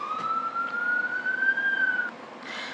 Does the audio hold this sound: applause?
no